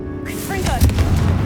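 A Confringo blasting spell from Hogwarts Legacy erupts in a single heavy boom that swells and holds as a rumbling burst, with a voice calling out just before the impact.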